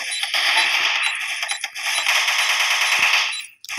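Rapid bursts of automatic gunfire in the video game Special Force 2 crackle almost continuously, bright and electronic-sounding, briefly pausing and cutting off near the end.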